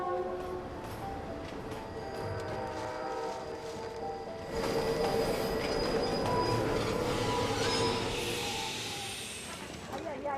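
A train rolls along a mountain railway with a steady mechanical rumble and faint tonal squeal, growing louder in the second half as it passes close, with no talk.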